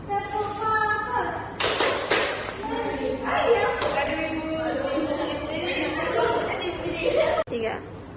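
A class of students doing the 'tepuk fokus' clapping routine in a microteaching lesson: several sharp group clap bursts at irregular intervals, mixed with chanted voices and speech throughout.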